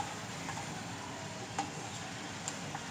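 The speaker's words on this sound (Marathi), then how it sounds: "आणि आपण त्यात आता ही धनेपूड, धनेपूड, हळदी आणि मीठ टाकून घेतो." Spices, coriander powder, turmeric and salt, frying in a pan, giving a steady soft sizzle with a few faint stirring clicks and no talk.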